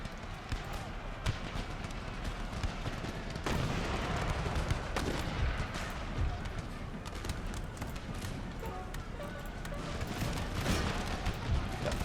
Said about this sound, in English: Yeah, open fire. Shoot them down there.